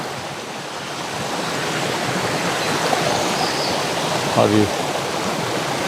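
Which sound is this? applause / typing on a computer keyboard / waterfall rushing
waterfall rushing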